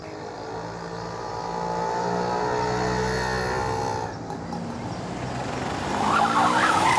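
A car skids and brakes hard in a crime drama street scene, a loud sustained tire screech and engine roar filling the whole stretch, with a brief dip before rising again, no talk heard.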